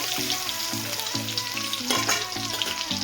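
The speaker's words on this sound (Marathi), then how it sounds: "ही पण आपल्याला याच्यामध्ये एक चमचा घालून घ्यायची आणि थोडेसे जिरे आणि याला व्यवस्थित मिक्स करून घ्यायचं" Garlic paste and cumin fry in a pan and are stirred, a close, loud continuous sizzle with regular rhythmic scraping strokes of a spoon.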